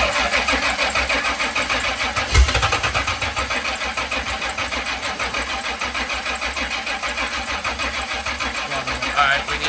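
A C30 engine turns over on its starter button after priming, a steady close cranking drone lasting nearly ten seconds with a brief thump partway through, voices talking over it.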